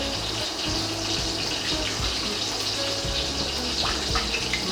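Water runs steadily from a tap, splashing and gushing continuously to rinse leftover blended mixture out of a blender jug for lamb pilau rice, close and loud throughout with no talking.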